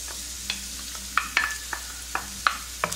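Minced garlic sizzles in cooking oil in a frying pan over medium heat, with a steady soft frying hiss broken by sharp clinks and scrapes of a spoon stirring, no talking.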